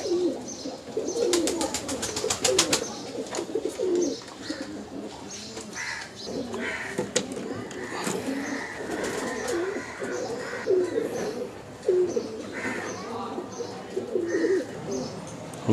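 Many pigeons coo and flutter at the Uluberia pigeon market in Howrah, a dense, continuous chorus of soft throaty coos mixed with chirps and occasional sharp wingbeats, crowded and close throughout.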